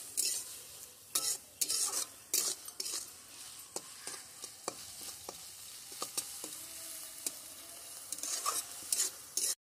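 Frying with a little oil in a pan at home, likely while cooking small shrimp with taro greens: a steady sizzle under repeated scraping stir strokes of a utensil against the pan, close and fairly loud, with no talk.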